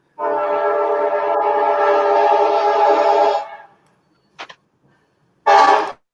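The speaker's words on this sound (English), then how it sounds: "Now frickin' train's coming." A passing train sounds a long, loud, steady horn blast for about three seconds, then falls silent. A faint short blip follows, and another brief loud horn burst comes near the end.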